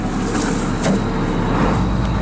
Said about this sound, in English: I'll kick that idle up a little bit